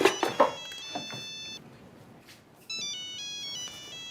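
A mobile phone ringtone plays in a home, bright electronic melodic tones repeating in short phrases, with some clattering and movement noise at the start and the ringing resuming clearly near the end.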